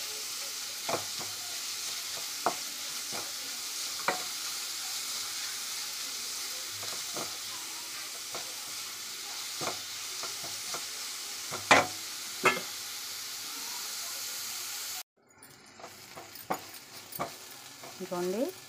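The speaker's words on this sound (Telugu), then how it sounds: "ఇదిగోండి బాగా ఫ్రై అయిపోయింది క్యారెట్" Grated carrot fries quietly in a pan, a soft steady sizzle broken by occasional spoon taps and scrapes, ending in a brief cut before a few louder clinks.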